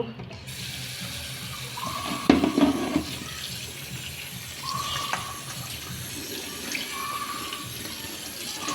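Cut taro stolons (kochur loti) are washed under running tap water, a steady splash and trickle in a sink with a brief louder sloshing burst partway through, heard alone without talk.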